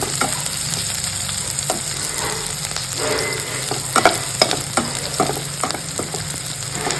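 Garlic, onion and green chili being lightly sautéed in a pan for a spicy papad chutney, a steady sizzle broken by repeated scraping and tapping stirring strokes, fairly close and loud, no talking.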